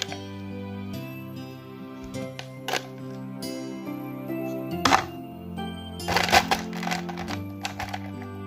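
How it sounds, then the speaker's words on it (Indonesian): Ice cubes dropped into a glass for a layered Fanta mocktail, giving a few sharp clinks and cracks over a steady hum of background music. "Setelah itu kita kasih batu es."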